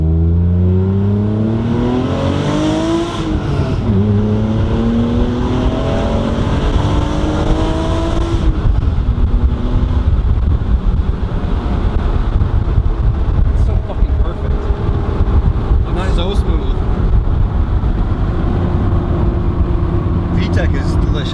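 A 1991 Acura NSX engine revs and pulls hard through the gears, its pitch sweeping up, dropping at a shift near three seconds and climbing again, loud and sustained from inside the cabin before settling into a steady drone, with a person talking over it.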